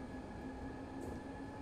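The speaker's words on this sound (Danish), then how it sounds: "Det her tog her, ikke? Det, jeg kan se, det bruger lige lidt tid om at stanse." A Copenhagen S-train on line F+ toward Klampenborg rolls slowly along the tracks, heard from inside as a steady low rumble with a constant hum and no distinct clatter.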